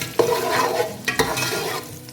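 Two medium onions fry in oil for a baghar, browning toward golden: a steady sizzle runs throughout, broken by a few sharp spoon-against-pot stirring clanks near the start and middle.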